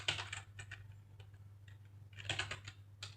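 Typing on a computer keyboard while entering a Google Sheets filter formula: two short bursts of quiet, close key clicks separated by a pause, over a low electrical hum.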